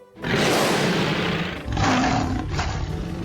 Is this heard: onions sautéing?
no